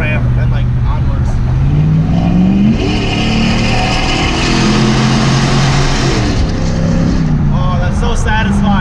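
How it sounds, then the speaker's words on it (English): Truck engine revving hard at around 4,500 RPM through a tunnel on an on-ramp, a loud sustained drone that rises and falls in pitch with echoing roar throughout, with occasional talk over it. "It's the last tunnel pull I'm ever gonna get to do with this truck"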